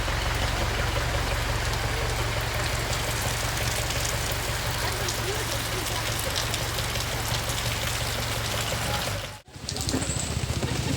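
Steady light rain patters on surfaces, a continuous soft hiss with fine drop detail, briefly dipping near the end before resuming.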